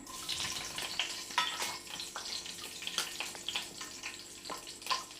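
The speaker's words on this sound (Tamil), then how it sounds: "எண்ணெய் சூடாகிடுச்சு. 2 பச்சை மிளகாய் சேர்த்துக்கிறேங்க." Steady crackling sizzle of green chilies frying in hot oil, with brief louder spits and pops throughout, close up.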